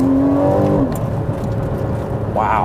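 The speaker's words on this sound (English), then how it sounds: "that's just that signature Porsche flat 6 sound" A 2015 Porsche Boxster S with its flat-six engine and PDK gearbox accelerates. Its steady, loud engine tone drops with a shift, drones for a while, then rises sharply again near the end.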